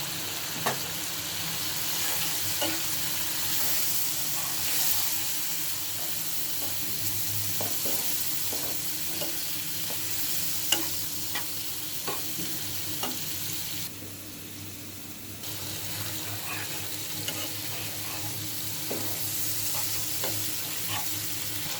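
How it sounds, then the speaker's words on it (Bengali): Spice paste of onion, turmeric, cumin, chili and cashew powder sizzles and fries in a pan for kalbaus fish do-pyaza, a steady crackling hiss with occasional stirring scrapes, close and continuous without talk. "মশলাটা আমি খুব ভালোভাবে কষিয়ে নিচ্ছি"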